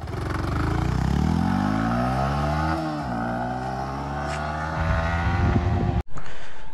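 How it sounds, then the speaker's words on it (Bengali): A serviced Yamaha MT-15 motorcycle pulls away on a test ride, its engine revving up through rising and falling pitch sweeps, loud and close, then settling into a rougher steady drone before a sharp break. "MT-15টা সার্ভিস করানো হয়েছে, এখন টেস্ট ড্রাইভের জন্য যাচ্ছে"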